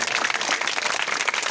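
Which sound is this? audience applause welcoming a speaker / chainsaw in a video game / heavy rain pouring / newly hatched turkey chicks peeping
audience applause welcoming a speaker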